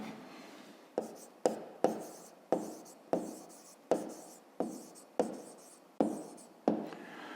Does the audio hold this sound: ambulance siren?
no